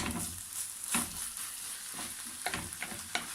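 Ground beef mixture for a potato and béchamel gratin sizzling in a pan while a spoon stirs it, with a steady close fry hiss and several scraping strokes and taps.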